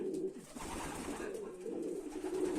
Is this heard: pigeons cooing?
yes